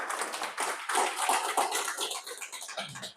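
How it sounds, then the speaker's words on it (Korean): An audience at a Hemohim product lecture claps together in dense, steady applause that fills the whole stretch, fairly close and without any talking. "박수!"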